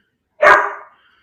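One sharp, loud bark from a dog named Colby Jack Cheese, close by and alone, trailing off quickly into silence.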